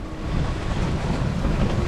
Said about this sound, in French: le vent s'est mis à crinquer